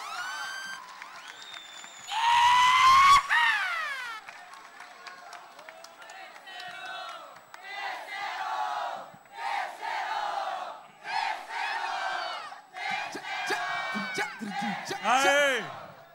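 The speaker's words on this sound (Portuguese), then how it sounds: "Bate palma, bate palma, bate palma!" At a Brazilian freestyle rap battle, the crowd cheers and whoops in a loud burst, then claps and shouts in repeated waves while a host's amplified voice calls over them.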